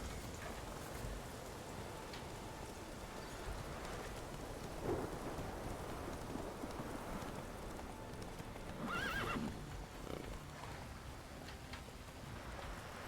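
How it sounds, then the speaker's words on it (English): Hooves of the horse Roach clip-clop steadily through The Witcher 3 video game, with a couple of whinnies standing out against a constant wash of rain and distant thunder; no one speaks. "Come on, Roach"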